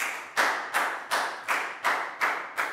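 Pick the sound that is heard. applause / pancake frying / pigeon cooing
applause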